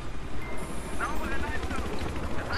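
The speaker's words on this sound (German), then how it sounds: "Hubschrauber ballern da ja rein" Helicopter rotor drone in the multiplayer shooter Battlefield 3, a steady low chopping rumble throughout, mixed with game noise while people talk over it.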